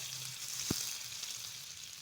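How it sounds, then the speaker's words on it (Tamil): Butter heating in a pan on the stove gives a faint, steady sizzle with one brief louder tap partway through; no one speaks. "இப்போ பட்டர் அதோடு சேர்த்துக்கலாங்க. நல்லா பட்டர் ஹீட் ஆகி வரட்டும்."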